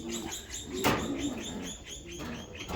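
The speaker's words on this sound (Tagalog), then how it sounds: "Ito naman yung mga hen na umuwi." Racing pigeon hens cooing in a loft, repeated soft coos and chirps with a brief flutter of wings partway through, close and steady with no talk.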